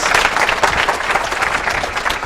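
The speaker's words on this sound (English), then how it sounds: "Round of applause, please." Audience applause at a hacker conference talk, loud and dense clapping from a crowd that runs steadily through the whole moment.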